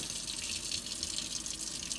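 Cold tap water running over rice being rinsed in a sink: a continuous soft, hissing stream of water, faint and steady, with no talk.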